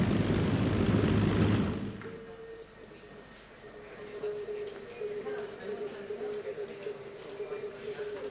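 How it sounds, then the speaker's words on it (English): WWII bombers return and land at an airfield, with a loud propeller-engine roar that cuts off after about two seconds, followed by a quieter, sustained engine hum while a voice speaks over it. "One by one, the bombers returned."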